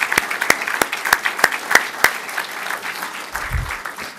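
An audience at a university engineering panel on El Niño applauds the panelists, with scattered, fairly close hand claps from a modest crowd that are steady at first and then thin out.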